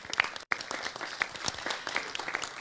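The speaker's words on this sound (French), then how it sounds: "on peut l'applaudir," Community council members applaud a newly seated councillor at a December meeting, a moderate room of clapping hands with one brief cut, continuing steadily throughout.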